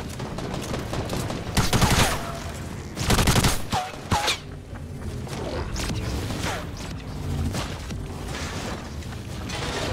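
Shotgun blasts ring out in a Fortnite match, with several loud, sharp bursts a second or two apart over a busy background of game effects and mechanical clatter.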